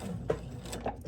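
A sewing machine runs a short fixed stitch on a lined apron, a brief close mechanical whir with a couple of clicking beats within about a second.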